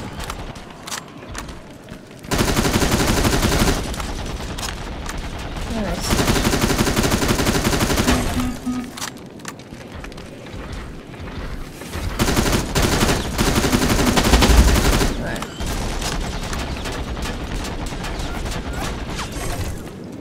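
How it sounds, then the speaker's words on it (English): Long, loud bursts of Uzi submachine-gun fire in the Terminator Resistance shooter game, several sustained volleys separated by short pauses, rapid and dense. "Now this is gonna have to use the Uzi again."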